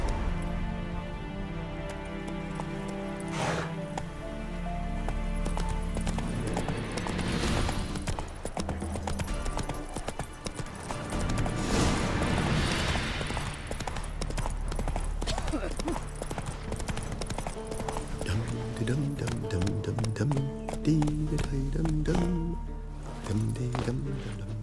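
Galloping horse hooves in The Witcher 3: Wild Hunt run as a steady clip-clop over game music and ambience, with a brief voice calling to the horse, at moderate loudness throughout.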